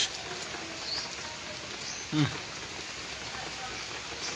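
Steady rain from a Kalbaisakhi (nor'wester) storm in Barisal patters throughout, with a broadband rushing wash of gusty wind and a brief louder gust or thump just past the midpoint.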